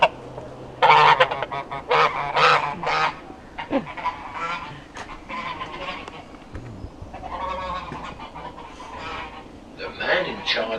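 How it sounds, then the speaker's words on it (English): A goose honks repeatedly in close range, a run of loud nasal calls in quick bursts followed by scattered later honks, with a person speaking briefly amid the calls. "hello goose. What do you want?"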